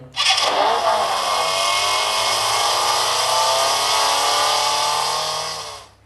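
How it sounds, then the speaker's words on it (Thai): A REDMAGIC 8S Pro gaming phone's small cooling fan spins up abruptly and holds a loud, steady high-pitched whir close by, then winds down at the end. "นี่คือเสียงพัดลมนะ"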